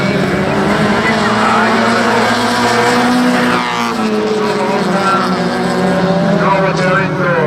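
Autocross race cars in a sub-1600 final rev and accelerate hard, a loud, steady engine roar with shifting pitch across the whole stretch, heard close with a commentator talking over it.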